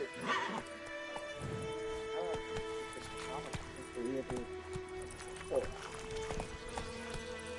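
Horse in The Witcher 3 video game galloping with rapid clip-clop hoofbeats and letting out a few whinnies, heard close amid game ambience, with a voice talking over it.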